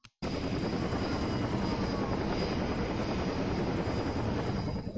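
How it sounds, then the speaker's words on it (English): Helicopter from the video game Rainbow Six Vegas 2, its steady rotor chop and engine roar holding loud and continuous from start to finish with no talk over it. "Another chopper."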